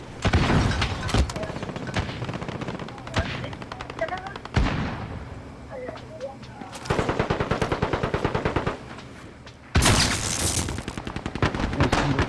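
Rapid machine-gun fire rattles in a shooter game, long rhythmic bursts of shots broken by short pauses, with loud sharp cracks and a few heavier blasts, some distant and some close.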